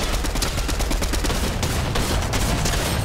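Dense, continuous video game gunfire fills the whole stretch with loud, overlapping shots and rattling bursts, with no talking.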